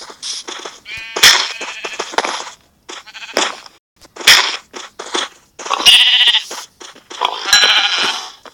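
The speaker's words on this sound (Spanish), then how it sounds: "Las ovejas." Sheep in the video game Minecraft bleat repeatedly in short, separate bursts of varying loudness, with brief gaps of silence between them and no speech.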